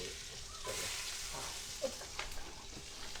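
Red chilies sauteing in a pan, a soft sizzle with a faint stirring scrape and a couple of small taps from a utensil, quiet and close, with no talking.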